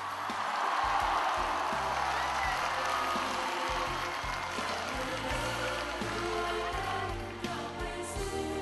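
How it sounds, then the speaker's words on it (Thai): Large outdoor political rally crowd applauding and cheering continuously for a speaker at Ratchaprasong, a dense sustained roar of clapping with music underneath throughout. "ขอเสียงปรบมือให้กับท่านกอบศักดิ์สภาวสุครับ"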